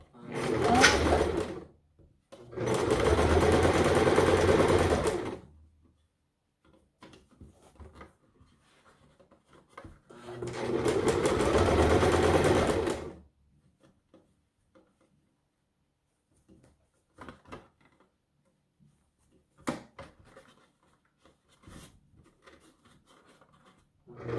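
A sewing machine stitches a fabric face mask in two loud, steady bursts of rapid whirring, with quieter handling clicks, taps and fabric rustles in the pauses between.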